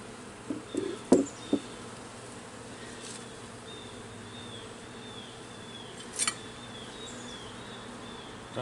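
Honeybees buzz softly and steadily around the hive lid during an inspection, with a few close, louder passes of individual bees over a constant hum.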